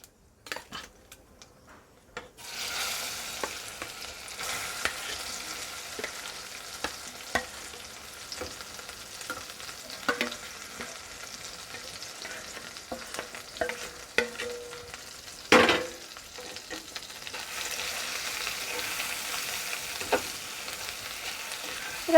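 Borboti (yardlong bean) pieces frying in a pan with black cumin, stirred with a utensil that scrapes and clinks against the metal, giving steady sizzling broken by irregular stirring clatter, with no talk.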